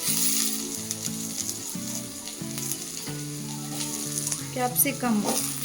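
Capsicum frying in oil on top of roasted onions for a paneer gravy, a steady close sizzle with occasional stirring, under faint background voices and tones.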